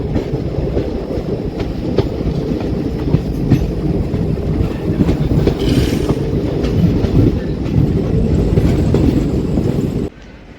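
The Gomti Sagar Express passenger train rolls along the tracks in India, a continuous close rumble with faint clickety-clack of wheels, steady throughout and ending abruptly.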